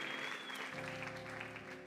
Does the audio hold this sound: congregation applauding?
yes